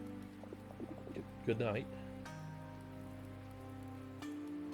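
Rain falls steadily on a surface through a quiet evening scene, a soft continuous patter under sustained musical tones, with a brief spoken goodbye partway through.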